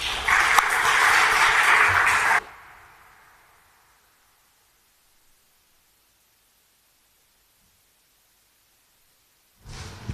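Audience applause at a Web 3.0 blockchain meetup greets an award presented on stage. A loud, dense burst of clapping lasts about two seconds, then cuts off into near silence before a brief noise at the end.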